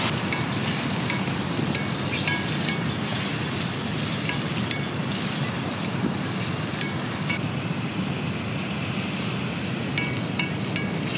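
A pounded spice paste hits very hot oil with a dense, steady sizzle, close and continuous, with small crackles throughout and no voices.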